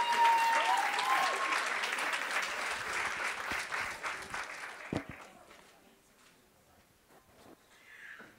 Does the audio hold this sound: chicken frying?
no